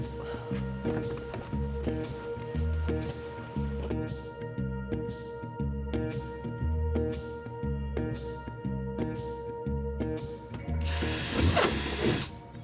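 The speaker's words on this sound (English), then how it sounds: "for the last screws, I am screwing the frames together" A power screwdriver drives screws to join the timber wall frames of a tiny house under construction, giving repeated short whirring bursts with ratcheting clicks in a steady rhythm, followed by a brief rougher burst at the end.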